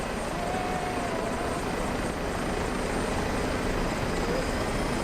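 Steady, loud rotor and turbine roar of an H145 helicopter in Microsoft Flight Simulator, a continuous close drone with no talk over it.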